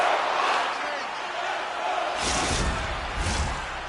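An arena crowd's cheering in an NHL hockey video game swells late in a tied period, a loud washy roar with two sharper bursts of noise near the end.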